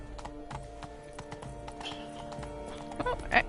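Unicorn hooves clip-clopping in The Witcher 3 Blood and Wine, a quick, steady run of hoofbeats with a short whinny near the end, fairly close over faint ambience.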